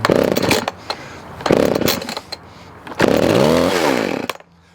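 A chainsaw is yanked by its pull cord several times, each pull giving a short sputtering burst of engine and rattle, the last one running briefly before cutting out; close and loud.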